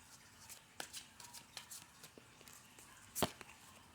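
Tarot cards are shuffled by hand close up and quietly, a run of soft irregular riffles and flicks ending in one sharp snap of the deck.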